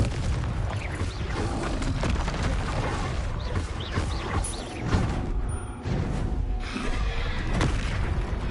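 The Confringo fire spell in Hogwarts Legacy sets off repeated booming blasts with whooshes and crashing debris over a continuous rumbling game backdrop.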